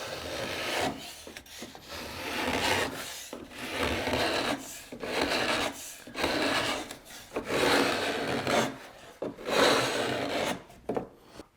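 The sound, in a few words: chisel scraping wood on boat frame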